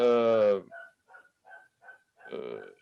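A dog gives a short run of small, faint barks or yips in a quick series, with a person talking just before and after.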